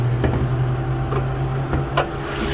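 A 2016 Mitsubishi Outlander 4x4 engine idles steadily with a low, even hum, close and continuous, broken by a few faint clicks and knocks.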